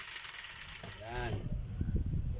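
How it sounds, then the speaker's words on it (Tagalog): A broken household appliance under test runs with a rough mechanical grinding and clicking from its worn gears, a steady ratcheting whir that swells partway through, with faint background voices. "Medyo maingay po yung gear niya dito."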